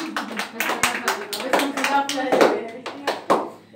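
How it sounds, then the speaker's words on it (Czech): Children at a Vrchlabí event clap together for their friends, a lively run of uneven handclaps lasting several seconds, with voices mixed in. "ale tleskáme všichni všem kamarádům"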